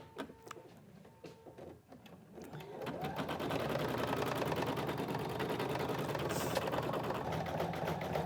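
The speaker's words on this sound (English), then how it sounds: "we're going to put it back in and finish stitching it out" A computerized embroidery machine stitches out an appliqué, starting with a few clicks and then settling into a steady, rapid mechanical needle chatter that runs loud and even to the end.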